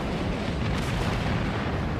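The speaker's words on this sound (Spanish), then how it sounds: "Hubo una explosión enorme." A huge explosion as a shell from the battleship Bismarck penetrates the stern magazine of HMS Hood, heard as a dense, sustained rumbling roar of blast and fire with no pauses.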